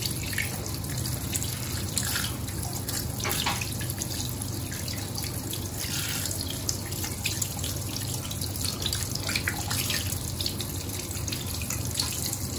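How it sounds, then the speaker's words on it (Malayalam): Sardines being washed under a steadily running kitchen tap, water splashing continuously into a sink with occasional drips and small clatters, close and fairly loud with no talking. "ഇങ്ങനെ നന്നായിട്ട് വെള്ളം ഒഴിച്ചിട്ട് കഴുകിയെടുക്കാം"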